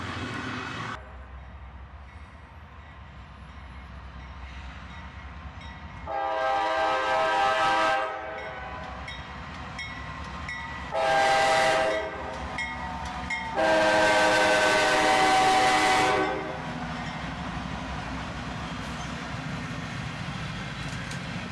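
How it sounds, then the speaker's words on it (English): A freight train rolls past with an SD70MAC locomotive trailing: a steady rumble of wheels and wagons, broken by three loud horn blasts, the last one longest. "this train would arrive with an SD-70 Mac trailing"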